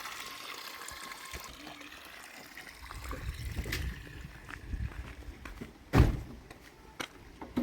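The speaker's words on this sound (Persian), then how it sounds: "آب چشمه" Spring water flows and splashes outdoors, a soft continuous trickle with occasional louder splashes and knocks, fairly close.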